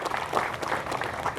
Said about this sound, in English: A round of applause to all of you for everything that you have done.